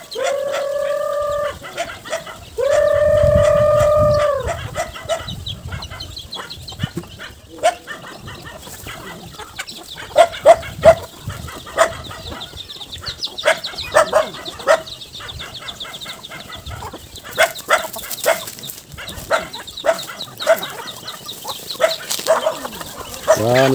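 Several dogs bark in sharp bursts near a chicken coop, with native chickens and chicks clucking and chirping around them in an outdoor farmyard, busy and close.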